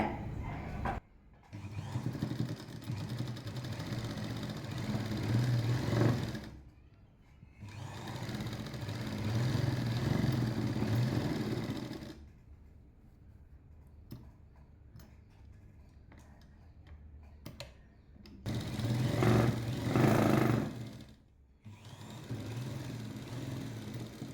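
A sewing machine stitches the side joint of a 40-inch lined blouse, running in three steady mechanical bursts with quiet pauses between them, fairly close and with no talking.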